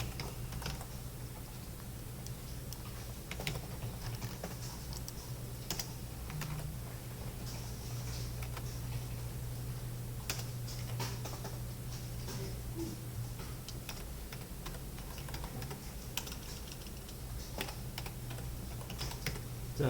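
Steady, fairly quiet clicking of a computer keyboard as someone types during a web coding lesson, continuous irregular keystrokes over a low constant background hum.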